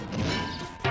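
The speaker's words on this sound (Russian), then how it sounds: "Но гитара сломана." A guitar smashes and breaks in one short, sharp crash, followed by a second, harder impact right at the end, loud and close with no talking.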